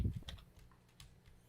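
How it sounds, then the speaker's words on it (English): Fast, forceful typing on a computer keyboard: a short burst of several sharp key clacks, close and clear with no talking. "There is savage, angry typing."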